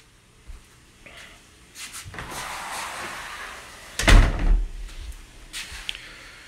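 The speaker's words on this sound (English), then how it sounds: "This is the front door." A house's front door opens and closes, with a handle click, a creaking swing, a louder thud as it shuts and a few faint knocks after, near and clear.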